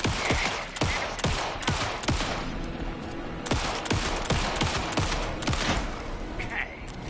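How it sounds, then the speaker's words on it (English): Rapid bursts of gunfire in the video game Alan Wake 2, loud repeated shots in quick clusters filling the whole stretch with little pause. "Anderson, pin him down with gunfire for me to get the light on him."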